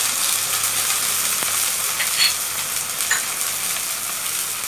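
Onions browned almost to a deep colour fry in a pan as garlic paste goes in for a country chicken skin curry, giving a steady, fairly quiet sizzle with a few soft stirring scrapes.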